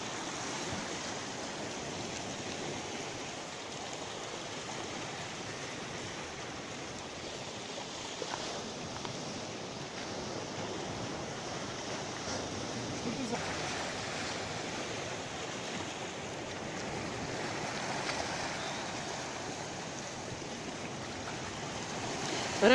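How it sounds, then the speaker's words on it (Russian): Steady, broad wash of Black Sea water on a shore at Sevastopol in summer, continuous and even for the whole stretch, with gentle swells of surf and no voices. "Это наше Черное море."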